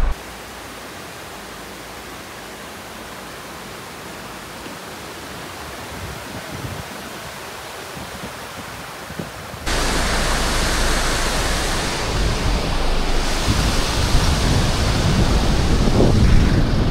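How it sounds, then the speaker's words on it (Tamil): Steady rushing water noise from a river on the Valparai to Athirappilly forest route fills the scene, growing louder and fuller midway through, heard up close with no voices. "ரிவருங்க, தண்ணி சவுண்ட்."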